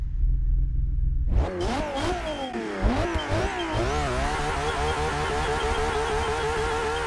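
A 1,100 HP Ferrari F12 in Forza Motorsport 6 sits in a low idle rumble, then revs hard with sweeping rises and falls before settling into a loud, steady high-revving engine drone, no talk over it.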